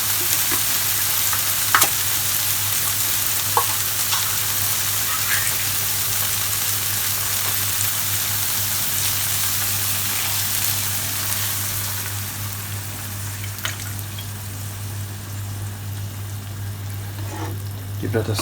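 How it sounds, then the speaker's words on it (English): Coconut milk bubbles and sizzles in a hot pan for a coconut sauce, a dense continuous fry hiss with a few light stirring knocks, close, over a low steady hum. "Give that a stir."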